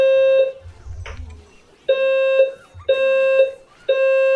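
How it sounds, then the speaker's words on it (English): An electronic fire alarm test sounds in a loud, steady repeating pattern of long tonal beeps, with people talking in between. "that is the aforementioned fire alarm test, which that PA just said to ignore"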